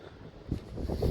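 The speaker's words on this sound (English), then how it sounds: "It will get a bit windy now." Short gusts of wind rumble against the microphone at Lydney Docks, building louder toward the end of the brief moment.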